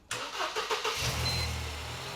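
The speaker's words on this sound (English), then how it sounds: "Would you mind jumping in and starting the car up for me" A car engine starts up after the car has been reset, the starter cranks for about a second and then the engine catches and settles into a steady idle, close and clear.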